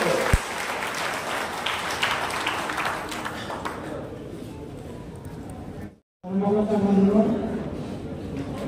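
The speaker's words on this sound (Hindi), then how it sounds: "अच्छे जोरदार करताली देके हम स्वागत करबो" A crowd at a welcome gathering in Odisha applauding, dense steady clapping for several seconds that fades, a brief silence, then a voice speaks over faint remaining noise.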